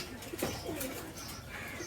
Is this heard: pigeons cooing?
yes